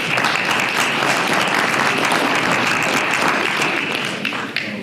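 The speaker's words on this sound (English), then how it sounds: "If we can give them a round of applause." An audience at a Walker County, Georgia chairman-elect candidate forum claps steadily for the candidates, a dense, sustained round of applause that fades slightly near the end.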